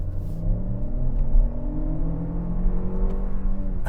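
A 2024 Lexus RX 500h hybrid in eco mode pulls away and accelerates after a U-turn, its engine drone climbing steadily with rising tones over a constant low rumble, with no talking.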